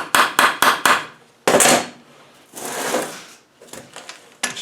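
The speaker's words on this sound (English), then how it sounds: "spin that nut off there." A nut being worked off an LT230 transfer box from a TD5 with a 30mm socket: a run of four sharp metallic knocks, then a louder clattering burst, a rustling scrape and a few scattered clicks, close and loud.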